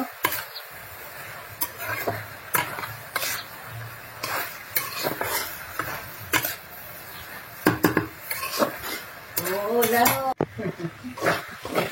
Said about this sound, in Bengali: এবার আমি সুন্দর করে নেড়ে চেড়ে ভাজি করব